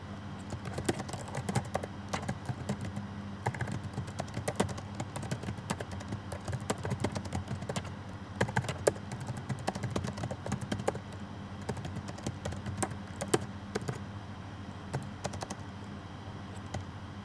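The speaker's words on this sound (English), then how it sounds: "I'm going to start typing up my interview" Someone types an interview into a text box on a computer keyboard, a long run of quick, irregular key clicks at close range, quiet and steady with no talking.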